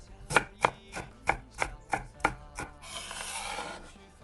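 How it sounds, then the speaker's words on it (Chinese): A knife chops scallions and ginger on a cutting board in seven sharp, evenly spaced thuds, followed by a soft scraping sweep across the board; no voices. "最后再切点葱花和姜末备用"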